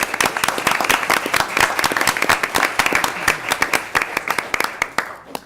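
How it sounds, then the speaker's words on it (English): Applause in a school board meeting room, a modest group clapping with distinct individual claps, loud and close, thinning toward the end. "if you could join me in a round of applause"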